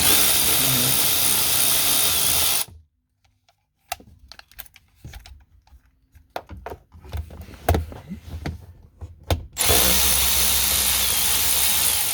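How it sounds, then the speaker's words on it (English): An electric winch runs with a loud, steady broadband whir for several seconds, cuts out into near silence broken by scattered clicks and knocks, then starts up again at full volume. "My electric winch. It actually make more noise than my manual winch."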